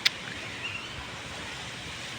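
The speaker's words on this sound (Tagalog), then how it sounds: "Tapos ang lakas pa ng hangin." Steady, roaring wind noise blows without pause in Saudi Arabia, a dense whooshing rush with a brief tap at the start.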